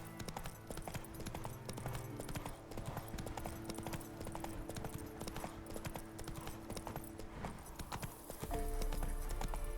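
Hooves of Roach, the horse in The Witcher 3, clip-clopping in a steady rhythmic gait, moderately close over a faint game backdrop, with a heavier thud near the end.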